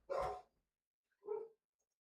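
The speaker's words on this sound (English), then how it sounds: "Oh, you guys can hear the dog." A dog barks twice, a sharp bark followed a second later by a softer one, heard at a distance with silence around them.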